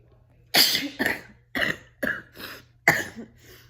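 A series of harsh coughs, about six in quick succession, close and fairly loud, with short pauses between bursts and no talking.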